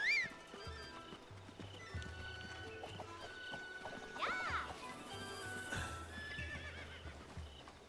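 A horse in Zelda: Breath of the Wild whinnies at the start and again midway, over a steady clip-clop of hooves and a soft game backdrop.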